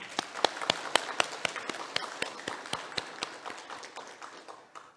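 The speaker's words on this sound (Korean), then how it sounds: "부활하신 우리 주님께 우리의 마음과 중심을 담아 기쁨으로 하나님께, 우리 주님께 영광의 박수 함께 올려드리도록 하겠습니다." During an Easter Sunday church service, a congregation claps in a brisk, fairly even rhythm of sharp, distinct claps that thin out and fade toward the end.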